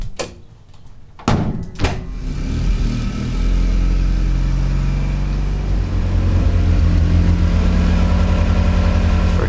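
A first-generation NA Mazda MX-5 Miata pulling away after a door thump and engine start, its small four-cylinder droning steadily and close, loud and continuous with no talk.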